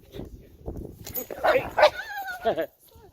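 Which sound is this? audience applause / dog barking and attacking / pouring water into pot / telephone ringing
dog barking and attacking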